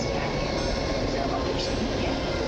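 A Pendolino high-speed train passing through Warszawa Zachodnia station amid platform and hall rebuilding, a continuous loud broadband rushing roar with rail rumble, close and steady throughout.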